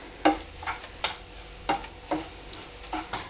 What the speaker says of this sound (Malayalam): ആ പഞ്ചസാരയും കൂടെ ഒന്ന് ചെറുതായിട്ട് ഒന്ന് കളർ മാറി വരുന്നത് വരെ വറുത്ത് കൊടുക്കാം